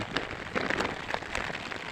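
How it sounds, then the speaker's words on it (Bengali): Light drizzle falling over an open wetland lake where people are fishing, a soft, close patter of scattered drops with brief brighter taps over a low, continuous hiss. "গুড়ি গুড়ি বৃষ্টি"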